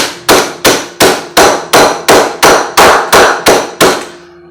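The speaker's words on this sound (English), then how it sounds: "I've got my hammer here, and I'm just going to beat the crap out of these" A hammer pounds a bag of French fried onions in ten loud, evenly spaced strikes, each one sharp and ringing briefly, with nobody speaking.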